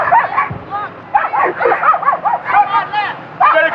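Dog barking and yipping inside a vehicle during a police traffic stop, a series of loud excited barks and whimpers in bursts, close by, with tense voices mixed in.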